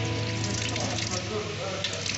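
Water running from a tap turned with a can opener in place of a handle, a steady rushing stream at close range with a faint background hum.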